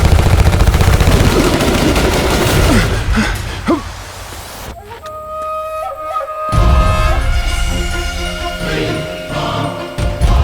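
A scene from a Hindi action movie carries loud bursts of rapid gunfire in the first few seconds, followed by a quieter stretch and then renewed dense noise.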